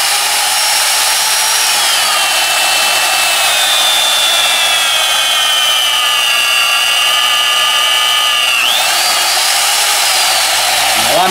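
Alfra RB35SP magnetic drill boring dry into steel, a loud steady motor whine with high grinding tones that dip as the cutter bites near the end, continuous and close.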